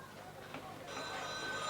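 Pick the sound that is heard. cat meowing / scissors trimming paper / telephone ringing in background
telephone ringing in background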